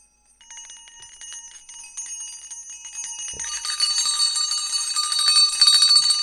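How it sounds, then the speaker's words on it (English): An old servant's bell ringing in a stage production of A Christmas Carol: a rapid, continuous metallic jangle that starts softly and grows louder and denser, with a sharp knock partway through. "Not that servant's bell, surely. It hasn't been connected to anything for years."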